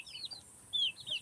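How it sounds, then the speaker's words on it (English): Baby chicks in a backyard garden coop give short, high peeping calls, a few quick chirps in succession at close range over quiet background. "But this is our baby chickens,"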